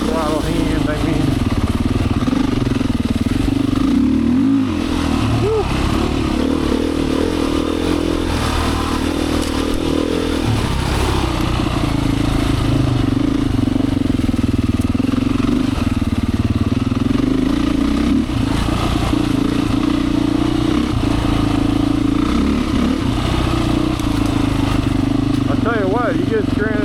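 A Beta 500 dirt bike is ridden on a trail loop at Black Lake in Michigan, its engine buzzing loudly and steadily with throttle swells, while a rider talks over it.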